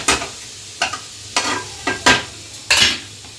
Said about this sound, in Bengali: অল্প ফ্রাই করে তারপরে মিক্স করে দেব